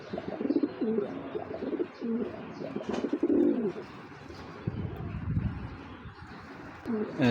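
Two male Pakistani pigeons coo nearby in repeated throaty, rolling phrases that overlap at times, with soft rustling and shuffling between calls.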